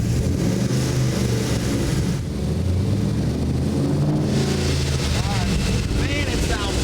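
Old Chevy truck fitted with race-car suspension, its engine rumbling and revving at a steady, loud level throughout, with people talking over it and wind buffeting the microphone.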